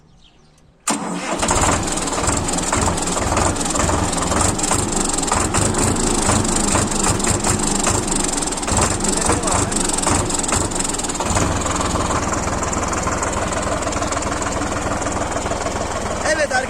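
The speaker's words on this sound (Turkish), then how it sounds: "Evet şimdi artık traktörümüzün sesini duyalım." A Solis S50 4x4 compact tractor engine starts up and runs steadily at idle, a loud continuous rumble with rattling knocks throughout.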